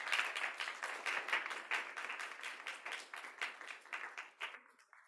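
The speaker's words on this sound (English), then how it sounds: "Everyone want to give them a round of applause." Audience at a spring alumni panel applauding the panelists, a dense patter of many hands clapping at steady volume for several seconds before thinning out and fading near the end.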